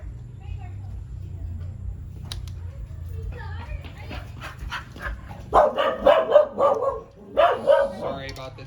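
Several dogs bark in bursts in the background of a home workshop where a Transformers Seeker figure is being spray-painted. A run of loud, close barks arrives partway through, with soft movement and room noise before it.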